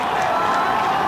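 Large outdoor crowd at a country football grand final roaring steadily after a goal, a loud sustained wash of cheering and applause.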